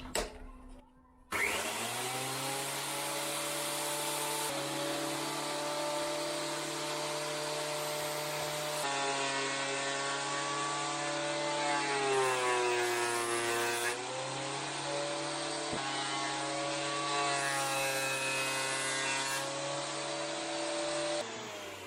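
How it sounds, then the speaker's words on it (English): A thickness planer feeds guitar neck wood through its cutter head in a steady, loud, whining roar that holds for about twenty seconds, its pitch wavering slightly as the blank passes through, with no voices. "I'm gonna do it with my thickness planer, and I'm going in with the thin side first."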